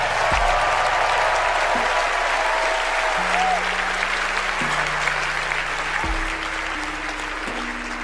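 A crowd of women applauds Oprah with steady, loud clapping and cheering that fills the whole stretch, while low sustained musical tones step through changing pitches underneath.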